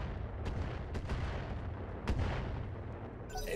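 Mortar fire in the mech strategy game Roguetech: a few deep, booming thumps spaced across a rumbling low backdrop, with one heavier blast near the middle, fairly loud and no talk.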